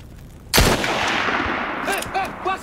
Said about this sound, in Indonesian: Antonio justru menembak anak buahnya yang dianggap tidak berguna itu.